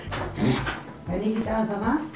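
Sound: dog choking and whimpering

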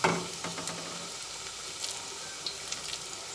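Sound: jute leaf pakoras sizzling while frying in oil

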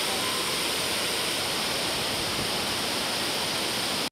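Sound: Burkhan-Bulak waterfall

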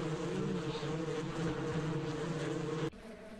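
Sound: bees buzzing around a hive frame in the video game Ranch Simulator

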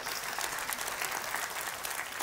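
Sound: applause

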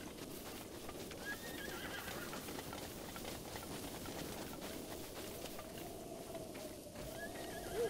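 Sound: horse neighing and hooves, video game

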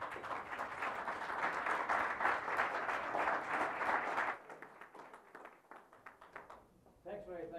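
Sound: audience applause welcoming speaker Michael Morris

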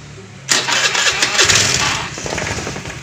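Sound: motorcycle engine being started

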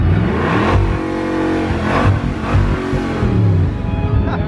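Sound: car engine revving hard

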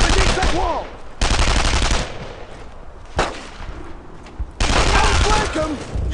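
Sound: WWII gunfire in video game Brothers in Arms

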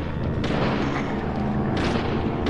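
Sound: gunshot in video game Deadly Premonition

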